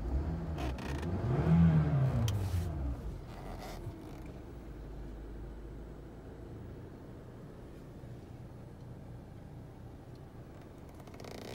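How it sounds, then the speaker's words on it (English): A 2015 Toyota Camry Atara S engine revs up loudly for a couple of seconds, then drops back to a steady, low idle hum for the rest of the clip, with no talking. "Give it a bit of a rev."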